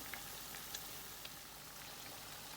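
Cauliflower vadai frying in hot oil: a steady, soft, hissing sizzle with a few faint pops, quiet and continuous with no talking.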